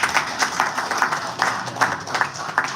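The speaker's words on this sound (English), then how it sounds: "Give an applause to them" An audience claps in applause at a crypto exchange launch event, a steady patter of many hands close by, moderately loud and continuous over a few seconds.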